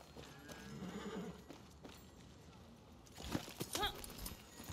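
A horse in the video game Far Cry 6 whinnies over a bed of game ambience and clopping hooves, with a louder burst of neighing and hoof sounds near the end.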